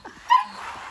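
A young Presa Canario puppy gives short, close, high yips and whimpering barks in quick succession.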